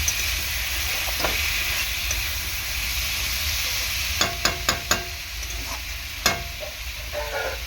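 Spices sautéed in a hot pan for an amudi fish curry with green tomato: a continuous hissing sizzle fills the clip, with a few soft stirs early and then a quick cluster of sharp spatula knocks and scrapes, close and fairly loud, no speech.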